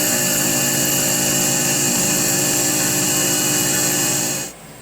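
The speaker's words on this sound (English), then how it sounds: "So now I'm going in with a 5-flute finishing end mill, also from Lakeshore Carbide." A 5-flute carbide finishing end mill cuts a finish profile on a Timascus knife part, a steady loud high-pitched machining whine with dense tonal layers that holds throughout, then cuts off abruptly just before the end.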